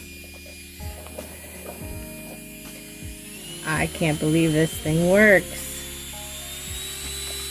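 An electric nail drill runs with a thin, steady high-pitched whine and a low motor hum throughout, while a person speaks briefly over it midway.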